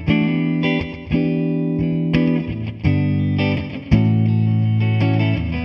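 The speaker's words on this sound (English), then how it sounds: "I've set the DD3 for a short slapback delay with a good amount of repeats, so it's sort of like a short wash of delay" An electric guitar runs through a Boss DD-3 delay pedal set to a short slapback with several repeats, so each strummed chord trails into a quick, reverb-like wash of echoes, played alone with no talking.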